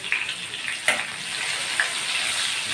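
Chopped onions and two bay leaves fry in hot oil with a steady, close sizzling hiss, broken by a couple of small pops.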